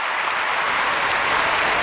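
Audience applause fills the whole stretch, a steady dense wash of clapping from a large crowd without pause, loud and close, with no speech over it.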